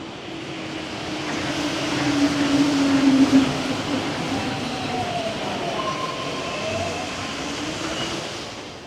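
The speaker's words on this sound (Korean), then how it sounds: "지하철이 제가 손으로 뻗으면은 닿을 수도 있을 만큼 가까운 거리로 지나가요." A metro train rumbles past close by at about sixth- or seventh-floor height, passing through an apartment building in Chongqing, steady and loud, with a brief high wheel squeal partway through; no one speaks.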